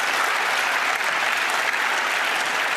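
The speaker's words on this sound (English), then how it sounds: "We can applaud that." Sustained applause from an audience at the LUX Audience Award ceremony, a dense, steady wash of clapping that stays loud and even throughout with no voices over it.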